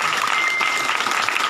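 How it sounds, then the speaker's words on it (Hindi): Church congregation clapping loudly during a worship service, dense continuous applause from many hands, steady and close throughout. "यीशु मसीह पवित्र आत्मा के लिए जोर से ताली बजाओ।"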